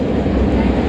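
Inside an underground metro train car near Masjid Jamek, a loud, steady, low rumble of wheels and motors fills the space without a break, with voices blended faintly into the din.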